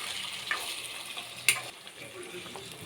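Drumsticks and tomatoes frying in a pan, giving a soft continuous sizzle with a couple of sharp pops and light stirring, close and fairly quiet.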